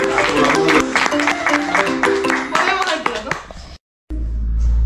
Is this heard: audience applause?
yes